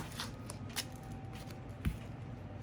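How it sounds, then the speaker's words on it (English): Tarot cards are shuffled close by in soft, continuous riffling and rustling, faint and papery with a few slightly louder flicks, and no voices. "I would shuffle like this."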